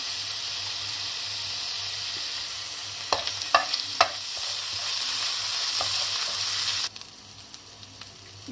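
Garlic ginger paste and cumin seeds sizzling in hot oil in a pan, a loud continuous frying hiss with a few sharp spoon clinks against the pan midway before the sizzle drops off near the end.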